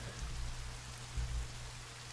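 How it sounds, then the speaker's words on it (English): Steady rain hissing in the forest of the video game The Forest, a constant even wash with a low hum underneath and no voices. "Some rain so I can get nice and cold."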